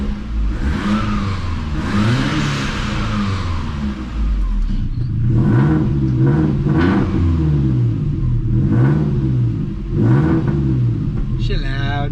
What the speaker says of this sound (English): A little rev.